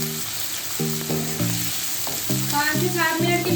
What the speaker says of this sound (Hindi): आलू और बैंगन को ना ऑयल में हमने फ्राई करना है।